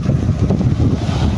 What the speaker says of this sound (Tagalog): Sana tumigil yung hangin para lumutang yung isda dito